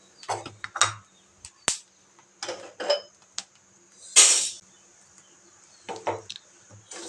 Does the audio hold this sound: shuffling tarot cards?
no